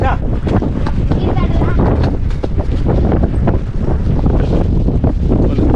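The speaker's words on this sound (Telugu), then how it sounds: "వెదర్ చల్లగా ఉంది తుఫాను గాలి" Strong, cold stormy wind buffets the microphone in a constant roar at the Vizag fishing harbour, with faint voices and water movement barely audible beneath it.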